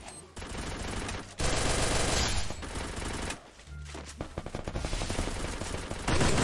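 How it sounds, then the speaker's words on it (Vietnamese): Players trade gunfire inside a house in the Free Fire video game, with dense, loud bursts of automatic shots broken by short pauses and a few closer single cracks. "Nó bắn nhau trong nhà kìa."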